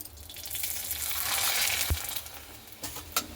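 Potato papads go into hot white oil in a kadai, with a rising, bubbling sizzle that swells and then eases, broken by a sharp knock and a couple of clatters near the end.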